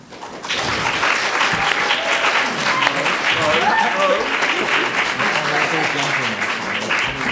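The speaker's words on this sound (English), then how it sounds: "Please applaud if you think they won." Audience at a Cambridge Union debate applauding: dense, sustained clapping from a large crowd starts abruptly and stays loud and even for several seconds, with faint voices underneath.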